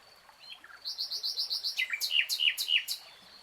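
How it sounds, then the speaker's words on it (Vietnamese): Birds sing in the melaleuca forest canopy of the Tân Lập floating village wetland in Đồng Tháp Mười: a quick series of bright repeated chirps, then several sharp descending whistled notes, clear and fairly near, with no talk. "nghe tiếng chim hót trên tán tràm"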